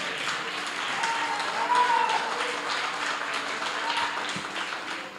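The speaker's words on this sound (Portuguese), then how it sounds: "vamos aplaudir o Senhor pela sua morte" Congregation at a Pentecostal celebration service applauding, a broad continuous patter of many hands swelling slightly midway and tapering at the end, with faint voices underneath.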